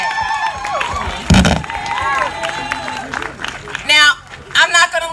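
A crowd at a Black women's march cheers and applauds in loud bursts, with broadband roars and whoops rising over a steady hum of chatter and a voice talking through the noise.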